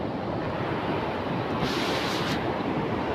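River water rushes under a bridge in a steady, loud, broadband roar that fills the whole clip, with wind buffeting the microphone and no voices.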